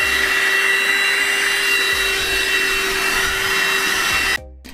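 A vacuum cleaner draws air through a filter inside a vintage van, a steady loud whine with bright high tones that runs unbroken for about four seconds before cutting off abruptly.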